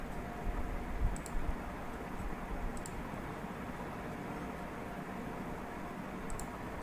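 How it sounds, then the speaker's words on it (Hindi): Three sparse, faint clicks from a mouse or keyboard button advancing a PowerPoint slideshow sound at uneven intervals over a steady background hiss. "अब नेक्स्ट आपको माउस के बटन से या फिर कीबोर्ड के बटन से स्लाइड शो को रन करना है।"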